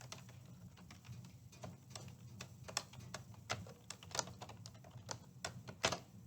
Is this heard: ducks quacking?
no